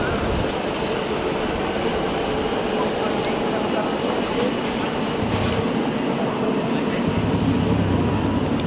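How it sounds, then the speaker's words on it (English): An S21 S-Bahn train to Bergedorf pulls out of Hamburg Hauptbahnhof, its wheels rumbling and squealing loudly on the rails as it leaves. A voice speaks briefly over the noise. "Off goes that S-Bahn train."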